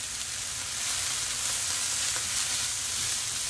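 Garlic fries in a hot pan with a steady, close, crackling sizzle that holds at an even level for a few seconds without any talk.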